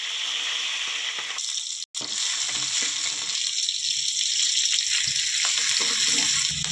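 Green chillies fry in hot oil for a vegetable curry, giving a loud, close, steady sizzle with a brief cutout and faint clatters underneath.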